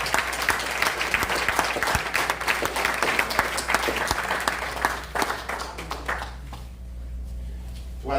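Church congregation applauding together, a dense steady wash of clapping that carries on for several seconds before suddenly dropping away, leaving a quieter room with faint murmuring.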